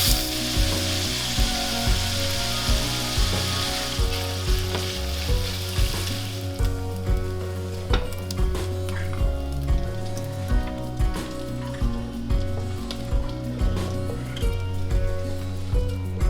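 Half a pound of diced bacon fries in a pan with a dense, crackling sizzle, brightest in the opening seconds, beneath steady rhythmic background music.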